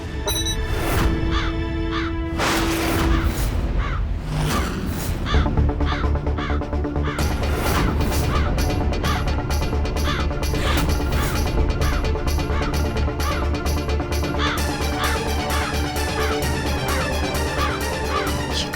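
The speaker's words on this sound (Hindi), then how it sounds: "कौवे की आवाज लग रही है।" A crow caws repeatedly amid a dense, busy clatter of background noise.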